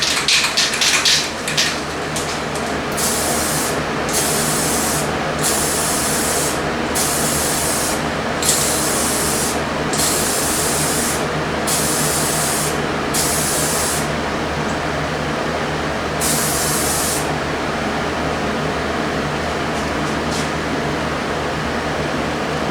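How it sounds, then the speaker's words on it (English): Spray gun laying a light final coat of lacquer on guitars, heard as a steady loud hiss with repeated bursts that start and stop in an even rhythm, with no talk. "let's grab the guitars and the lacquer and we'll just do that light last coat of lacquer"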